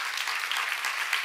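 A church congregation applauds together, a steady, dense wash of clapping filling the space without pause for a brief moment.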